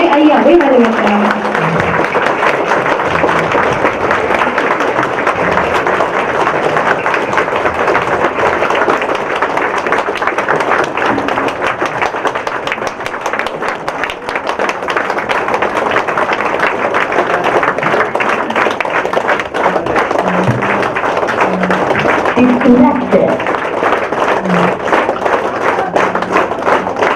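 A seated audience at a New Year workshop in Trichy claps continuously for nearly half a minute to welcome a speaker, the applause dense and steady with a voice occasionally over it.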